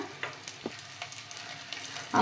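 Peanuts and garlic cloves fry in a pan for tomato thecha, crackling with soft scattered sizzles and pops that swell into a louder burst of frying near the end; no one speaks.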